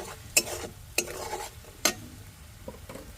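Chopped onions fry in a pan for a village-style fish-head and bottle gourd curry, a soft steady sizzle broken by three sharp scrapes of a spatula stirring against the pan.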